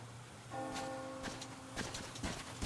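Bell tolling in the video game Metro Exodus, repeated strikes with a ringing harmonic tone sustained over rustling ambient game sound.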